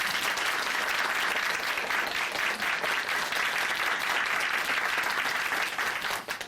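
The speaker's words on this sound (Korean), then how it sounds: "오늘 간증 전해주신 이문실 자매님께 다시 한번 박수 부탁드립니다." Steady, moderately quiet applause from a church audience honoring a woman who has just given her faith testimony, a dense, even patter of clapping with no voices over it.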